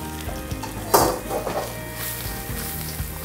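Potatoes tipped into a hot pan with chopped garlic, chilli, jimbu and coriander, hissing into a steady close sizzle with a brief louder burst as they land, no speech.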